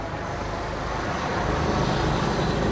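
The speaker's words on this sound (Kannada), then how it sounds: "ಮತ್ತೆ ಹೆಲಿಕಾಪ್ಟರ್ ಹೋಯ್ತಲ್ಲಿ." A helicopter passing over a city marathon gives a steady, dense low rumble and wash of noise that holds evenly throughout, with no voices on top.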